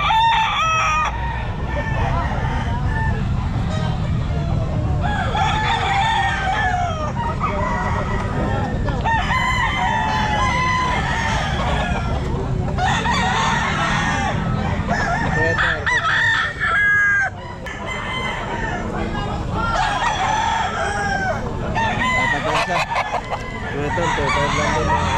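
Sweater gamefowl roosters crow repeatedly at a pet market, loud and overlapping, amid constant clucking and busy crowd noise.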